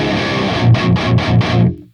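An electric guitar through an Audio Assault Hellbeast metal amp with the kill button off gives dense distorted chugging, a quick run of palm-muted hits, then a sudden stop.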